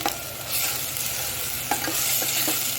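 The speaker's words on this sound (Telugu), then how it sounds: "ఈ రెండు కలిపి వేగాలి బాగా" Tomato paste fries in a pan for Andhra-style mutton paya, a loud continuous sizzle broken by a few scraping stirs of the spoon, close and with no voices.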